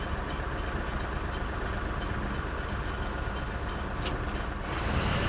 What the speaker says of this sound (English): And it sounds like a big heavy-duty truck.